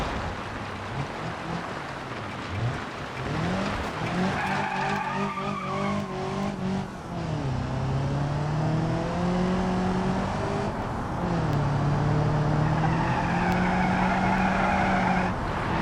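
A car in a video game drifts through a turn, its revving engine rising and falling while tires squeal in loud, sustained bursts for most of the stretch.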